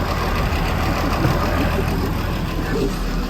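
Steady low diesel idle of a log loader working in the woods, a continuous rumble holding even and close without breaks.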